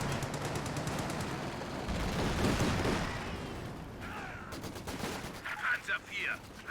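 Distant small-arms and machine-gun fire in the real-time strategy game Company of Heroes 2 rattles under a commentator's steady voice, with a few sharper bursts near the end.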